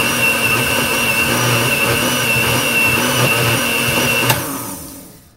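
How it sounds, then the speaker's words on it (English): A blender whirs steadily and loudly while blending a banana, blueberry and flax seed smoothie, a close continuous motor drone that winds down and stops near the end. "let me just blend this up a little more"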